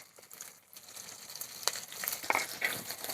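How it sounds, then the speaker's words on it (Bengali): Chopped onion with five-spice and dried red chilli frying in oil in a wok, a soft steady sizzle building slightly, with a few faint clicks of a stirring utensil; no talking. "পাঁচ ফোড়নটা একটু ভাজা ভাজা হয়ে গেলে দিয়ে দেবো কুচনো পেঁয়াজ।"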